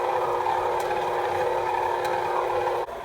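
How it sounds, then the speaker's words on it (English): A stand mixer kneads whole wheat pizza dough made with white flour and oats, giving a loud, steady motor whir that runs unbroken and then drops off abruptly near the end. "put it in your mixer and let it mix for 5 minutes or so"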